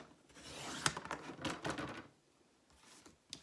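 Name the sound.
trimming scrapbook paper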